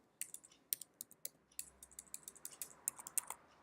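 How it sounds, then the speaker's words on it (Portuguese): Typing on a computer keyboard while entering JavaScript code, a steady run of crisp, close key clicks with irregular rhythm and no talking. "Se eu digitar aqui"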